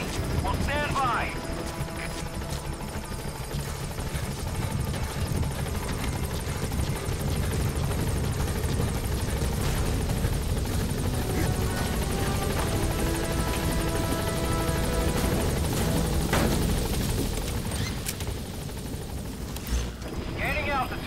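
Helicopter engine and rotor drone from the Pequod transport in Metal Gear Solid V, hovering steadily and loudly at a landing zone with a dense low rumble, under game ambience and brief voice chatter.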